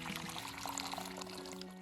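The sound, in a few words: hot water poured over tamarind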